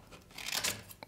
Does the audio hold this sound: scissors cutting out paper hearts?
yes